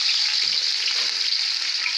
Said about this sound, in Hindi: और अब हम इसमें डाल देंगे प्याज